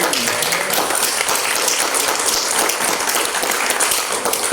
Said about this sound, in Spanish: le damos nuevamente un gran aplauso a nuestro presidente